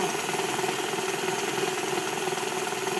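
Stand mixer whipping eggs and sugar into a pale, foamy batter at high speed, giving a steady, loud, continuous motor whir with dense broadband texture and no pauses.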